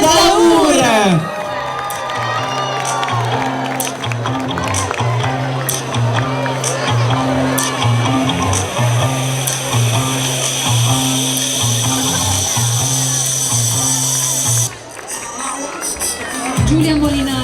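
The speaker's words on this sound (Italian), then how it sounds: "signore e signori un grande applauso alla contrada di" A crowd cheers and shouts for a contrada at the Paluzza palio festival stage. Loud voices and whoops, children's cries among them, ride over pulsing music, then briefly dip before swelling again.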